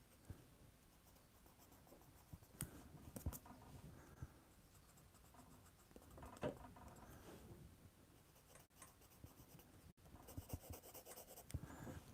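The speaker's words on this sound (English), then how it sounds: "I'm bearing down a bit harder to get more vibrant white pencil" White colored pencil pressed hard against Post-It paper, a soft, faint scratching of irregular strokes that comes and goes, with brief bursts of quicker scribbling and no talk.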